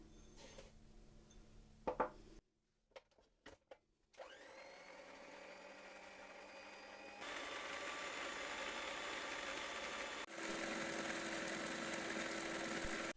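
A few clicks and a pause, then an electric mixer whipping eggs with sugar starts whirring loudly and steadily, its motor pitch stepping up twice as it runs faster.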